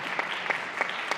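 Audience applause following a talk, a steady wash of clapping with a few louder pulses, moderately distant and without voices.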